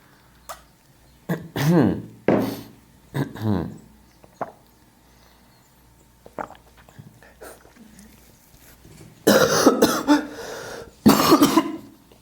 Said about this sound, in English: I'm coughing a little bit.